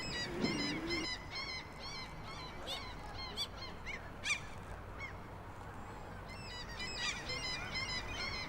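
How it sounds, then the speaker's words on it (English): Waterfowl on a small lake honk repeatedly in an overlapping, busy chorus, fairly close and steady throughout with no speech. "a small lake where ducks and seagulls are having fun playing around the wooden boats."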